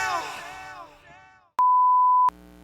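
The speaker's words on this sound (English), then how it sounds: "Beep." A single steady electronic beep from a recording device, a clean sustained tone lasting under a second, following a voice that trails off.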